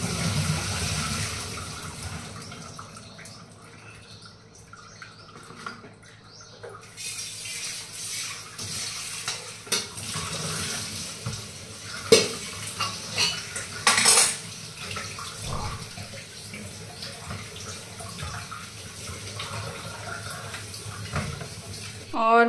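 Boiled sangri being tipped into a sieve and rinsed under running water in a kitchen sink, a steady wash of pouring and splashing with occasional clinks of the metal strainer and pot.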